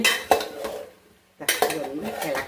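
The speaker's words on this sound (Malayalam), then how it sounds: "ഒന്ന് ഇളക്കി കൊടുക്കാം" Vegetables for aviyal being stirred in a metal pot, clattering scrapes of a spoon against the vessel in two close bursts separated by a brief quiet gap.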